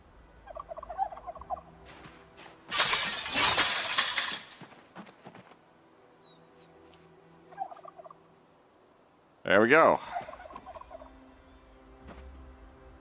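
Turkeys gobble in a farm video game in short, warbling bursts spaced several seconds apart. A loud crashing clatter breaks in between them against a quiet background.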